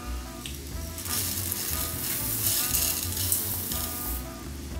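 Rice poured in with chorizo and garlic frying in a paella pan, a loud continuous sizzle with bursts of crackle and stirring, close up, no voices.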